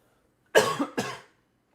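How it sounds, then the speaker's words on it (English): Two sharp coughs in quick succession, close and loud, then silence. "this cough is killing me"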